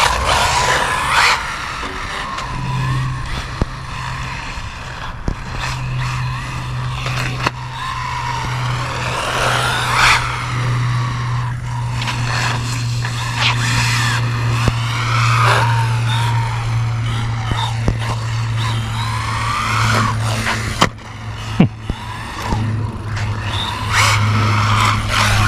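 An Arrma Mojave Grom small-scale RC truck running on a 3S battery drives around a skate park, its electric motor whining steadily with bursts of tire scrub and skidding, close by and moderately loud.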